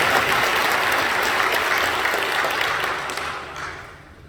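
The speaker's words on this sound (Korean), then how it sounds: "이렇게 크게 박수해 주십시오" Congregation of a Korean church applauding loudly during a Sunday worship service, dense steady clapping that holds for about three seconds and then thins and fades toward the end.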